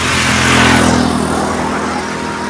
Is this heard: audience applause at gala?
no